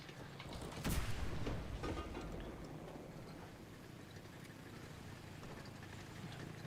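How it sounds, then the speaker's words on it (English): Heavy cannon fire from a 40mm gun in the WWII shooter Enlisted, Tunisia battle: a loud blast near the one-second mark over a constant rumbling battlefield din that fades to a steady background roar. "this is like a 40mm cannon"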